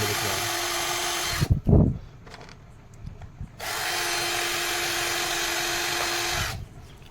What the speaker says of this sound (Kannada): ಅದಕ್ಕೆ ಡ್ರಿಲ್ ಮಾಡ್ಕೊಳ್ಳಿ ಆ ಕಡೆ ಈ ಕಡೆ ಎಲ್ಲ ಸೈಡು